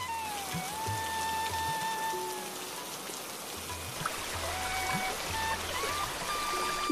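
Light drizzle falls on a pond stocked with young prawns, a soft steady patter of raindrops spread evenly across the whole stretch, with faint tonal whistles and a low hum in the background.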